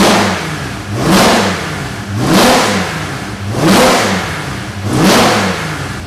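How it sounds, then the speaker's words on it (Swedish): A Ford Capri race car engine warming up in the pits, revved loudly in four regular blips that rise and fall over a steady idle. "när man väl står och varmkör den i depån"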